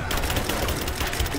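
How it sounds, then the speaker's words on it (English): Dense, continuous gunfire fills a Rise of the Tomb Raider firefight as covering fire, loud and unbroken, a rapid rattle of shots with no clear pauses. "Covering fire!"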